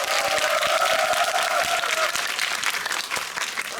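A theatre audience claps in a dense, loud burst of applause at a guest-visit screening of the Korean film 군체, with scattered individual claps continuing steadily throughout.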